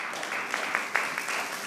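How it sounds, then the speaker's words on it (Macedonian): An audience at a Macedonian televised music talent show applauds the band after a performance, giving a steady, moderately faint wash of clapping with a few sharper individual claps, and no voices. "Еден аплауз, ако може."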